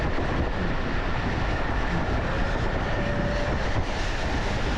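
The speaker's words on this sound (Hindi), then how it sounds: "अभी थोड़ी देर के लिए, एक जस्ट मिनट के लिए रुकी थी, लेकिन दोबारा जो ट्रेन है वो चल पड़ी है।" A local passenger train in Pakistan rolls along the railway after a brief stop, a steady, dense rumble of wheels and carriages with faint rail clatter, continuous and close throughout with no talk.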